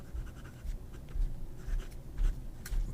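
An Admach M800 fountain pen with a Schmidt broad nib writing on paper, a soft, close scratching with short strokes and a few louder taps, no talking.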